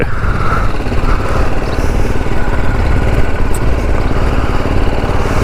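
A motorcycle engine runs loud and close during a ride through town, a constant rough throbbing drone with steady wind rush and no voices.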